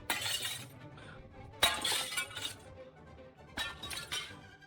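Glass shatters in several loud, close bursts of breaking, each crash followed by tinkling shards clinking and settling, separated by brief quieter gaps.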